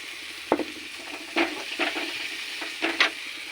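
Boiled peas poured into a frying spice paste and stirred, a few brief wet sizzles and scraping stirs in uneven bursts over a low steady background hiss, close and fairly quiet, with no talking.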